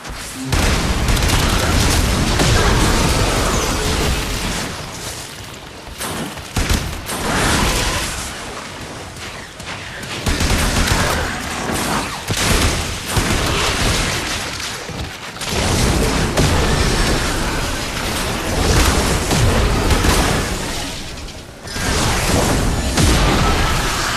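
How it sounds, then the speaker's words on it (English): Sustained weapon fire in the video game Warframe while destroying a hive, dense and loud with booming blasts and bursts of shooting that keep going with only short lulls. "Hive located. Destroy it with weapon fire."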